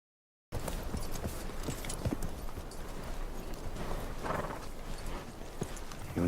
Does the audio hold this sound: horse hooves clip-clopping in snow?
yes